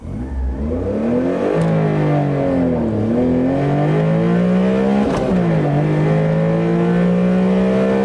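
A small open-top sports car accelerates hard from a standstill, its engine droning loudly and climbing in pitch through each gear, with short dips at the shifts before rising again, steady and close throughout.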